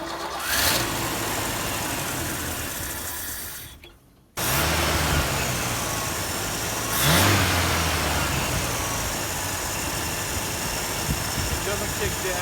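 A car engine runs rough and surges up and down, close and fairly loud, briefly cutting out before picking back up, with a voice talking over it at times.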